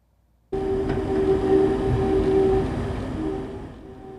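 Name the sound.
Sunset Limited passenger train rumbling west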